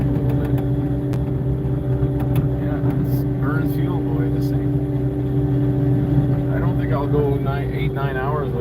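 A 70-horsepower machine's engine idles steadily at around 1900 RPM, a loud, constant hum, with a person talking briefly toward the end.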